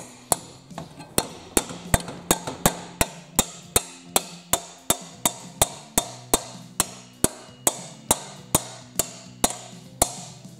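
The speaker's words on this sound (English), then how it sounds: "And then just tap it in with a hammer." Hammer tapping a part into place on an International Harvester Lowboy tractor's shifter, a long steady series of sharp, loud metallic strikes at an even rhythm of about two to three per second, close up and alone.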